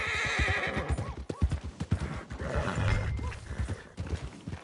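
A horse in Red Dead Redemption 2 whinnies close by over a run of clip-clopping hoofbeats, loud and uneven, with no speech.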